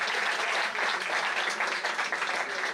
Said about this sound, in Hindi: एक बार जोरदार तालियों से ये बता दीजिए